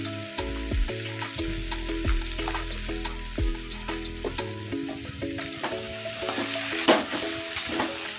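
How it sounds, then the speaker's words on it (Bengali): Vegetables for a puishak dish being stirred with salt and turmeric in a hot pan: constant sizzling under repeated scraping strokes of a spoon, close and even, with occasional sharper clicks, no talking. "সবজিগুলোর সাথে নুন আর হলুদ গুঁড়োটা ভালো করে মিশিয়ে নিচ্ছি।"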